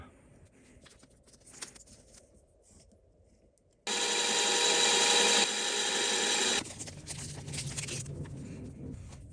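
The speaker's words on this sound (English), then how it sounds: "Let's get it back in the lathe and we'll clean it up a bit." A wooden tap follower spins on a lathe while being cleaned up, giving a loud, steady hissing rub of tool or abrasive on wood for a few seconds, surrounded by quieter workshop handling sounds.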